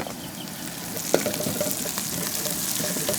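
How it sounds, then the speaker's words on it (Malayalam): Garlic, curry leaves and sliced green chillies sauté in a pan for a chicken dish, giving a soft continuous sizzle with a brief sharp clink partway through and faint stirring. "ഈ വെല്ലുള്ളിനെ നല്ലോണം വഴറ്റി കൊടുക്കുക കേട്ടോ"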